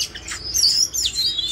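An oriental magpie-robin sings nearby, a loud run of bright whistled chirps and sweeping warbles in quick succession, clear and alone against a quiet background.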